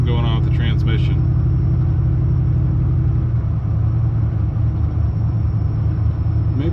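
A turbocharged Chevrolet Silverado pickup drives with a loud, steady low engine rumble and drone heard from inside the cab, the tone shifting slightly partway through; a voice speaks briefly at the start.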